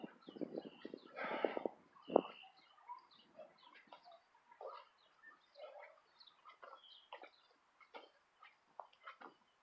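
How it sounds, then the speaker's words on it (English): Loud honking calls of geese burst out at first, followed by scattered squawks and clucks continuing intermittently at moderate distance, in a park. "Geese."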